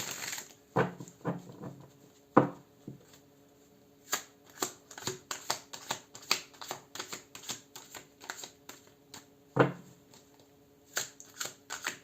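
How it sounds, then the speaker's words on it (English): Tarot cards being shuffled close up in several quick bursts, with riffling and soft slaps between short pauses. "Let me do one more shuffle and we're going to jump straight into the reading"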